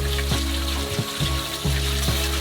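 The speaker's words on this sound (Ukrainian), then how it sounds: "і заливаємо в нього воду." Water pours into a cauldron on a stove, a loud continuous rushing and splashing close by, with faint rhythmic knocking sounds repeating under the flow and no voices.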